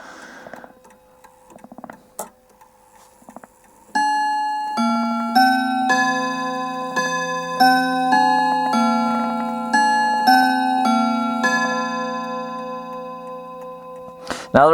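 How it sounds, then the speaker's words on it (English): An Anvil Westminster chime clock with a Perivale movement strikes its chime tune loud and close, a sequence of clear ringing notes after quiet ticking and handling, ending with a sharp knock. "Always remember when you're setting a clock chime, always let it strike"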